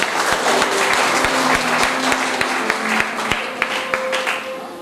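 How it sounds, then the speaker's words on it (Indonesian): Applause from a church congregation at a Christmas celebration, sustained, dense clapping filling the room for about five seconds, with some individual claps standing out near the microphone. "Tepuk tangan buat kita semua."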